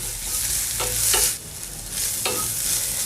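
Salt and ginger-garlic paste being stirred in a frying pan for chicken liver fry, with steady sizzling and a few sharp scraping strokes of the spoon against the pan, close and moderately loud, no talking.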